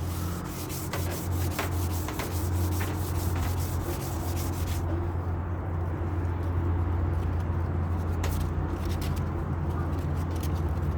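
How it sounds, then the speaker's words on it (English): Sandpaper rubs back and forth over a waxed wood surface in steady, close scratchy strokes, continuous and fairly quiet, with no talking. "just going in with the sandpaper again"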